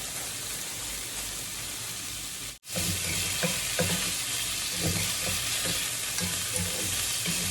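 Sea morning glory and pork stir-fried with oyster sauce in a pan, a continuous hiss of frying with repeated spatula scrapes and knocks, broken by a brief dropout of sound partway through.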